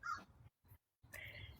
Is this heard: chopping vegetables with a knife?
no